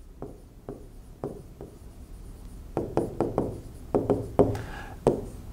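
Pen strokes writing a trigonometry sine formula by hand, a series of close, irregular scratchy taps and short scribbles that start sparse and grow denser and louder toward the end, with no talking.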